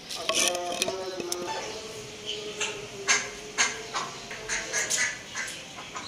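Desi ducks quacking in a poultry shed at feeding time among country hens, several nearby calls in irregular bursts with a faint voice briefly in the background.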